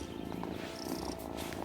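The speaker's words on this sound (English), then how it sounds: "Oh, that's a purr." A cat in the video game Wylde Flowers purrs in a continuous low rumble, close and steady, with faint background game sounds and no talk.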